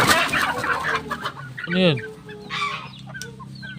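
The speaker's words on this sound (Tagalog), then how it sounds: "ito nga pala yung ating mga inahin breeder" Breeder hens in a backyard farm cluck and squawk close by, a loud rising rooster-like call standing out among the flock, with a brief voice speaking early on.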